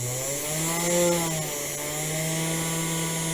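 Spindle motor of a Sainsmart CNC 4040 Pro overhead router running at speed, a constant loud tonal whine with a slight pitch wobble, near and steady throughout with no talk.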